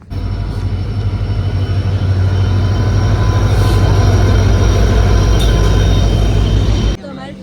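A train stands or rolls at Bhiloda railway station with a loud, steady low rumble that drops away abruptly near the end.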